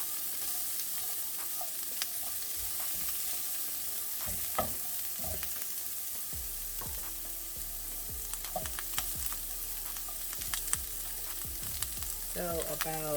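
Two tablespoons of butter sizzling in a lightly oiled pan for steelhead trout and brassicas, a constant close frying hiss with scattered pops and crackles that grow busier toward the end.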